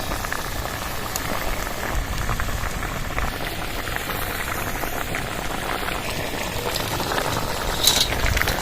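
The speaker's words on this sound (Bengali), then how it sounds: "গ্রেভিটা ফুটে উঠেছে" Chili chicken gravy boiling in a pan, a continuous dense bubbling patter like rain on a surface, close and steady, slightly louder near the end, with no speech.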